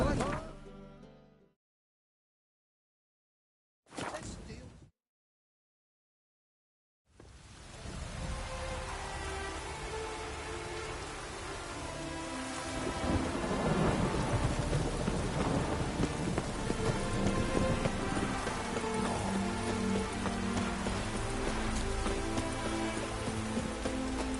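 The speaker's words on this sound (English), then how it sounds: "I like rain. Keeps the rogues indoors." Rain falls steadily in a video game, joined by deep rumbles of thunder, after a couple of short bursts of sound broken by silence; the downpour swells louder midway and stays constant.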